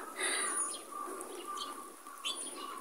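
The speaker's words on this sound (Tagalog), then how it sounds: "Yan, nalalamigan din yata mga ibon." Small birds chirp and tweet in a snowy street in Vladivostok, Russia, sounding as a few quick, bright calls close by over a steady low hum, with no talking.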